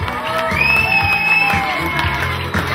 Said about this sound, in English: Give this man a big round of applause.